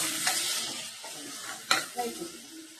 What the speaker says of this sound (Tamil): மட்டன் மசாலா போடணும். போட்டுட்டு மட்டன் போடணும்.